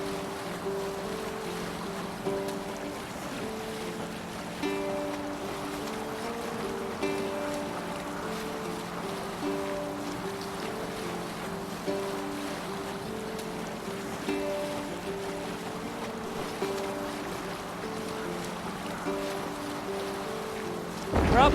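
A sailing ship glides over waves in Assassin's Creed Valhalla, a steady wash of water running the whole way under sustained melodic tones, with a louder swell right at the end.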